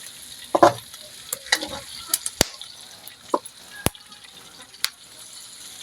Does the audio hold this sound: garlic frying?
yes